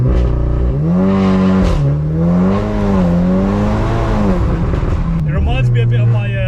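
A Stage 3 VW MK8 Golf R, 535 hp with four-wheel drive, launches through a forest, its engine roaring loudly and climbing through the revs with a brief dip at a gear change, heard from inside the car.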